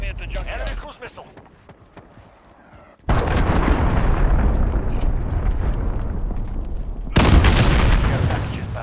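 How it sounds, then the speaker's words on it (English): A cruise missile strike in a combat video game lands as a loud, sudden blast that becomes a long, roaring rumble. A second heavy burst follows a few seconds later, with game voice callouts in the mix. "Enemy cruise missile."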